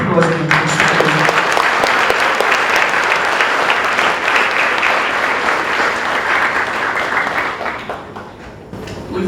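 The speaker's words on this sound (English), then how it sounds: "Round of applause for the" Audience at a school presentation day applauds loudly and steadily, dense clapping filling the whole stretch and easing slightly near the end, with some crowd noise mixed in.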